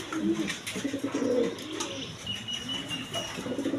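Domestic pigeons coo softly in a loft, several low murmuring calls overlapping at moderate distance, with faint chirps and a brief flutter of wings in the background.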